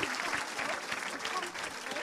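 A church congregation applauding in praise of the Lord, dense clapping throughout with voices mixed into the crowd.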